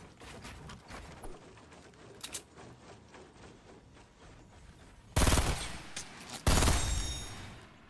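Gunshots in the video game Fortnite, with scattered light shots early and then two loud, close bursts of gunfire near the end.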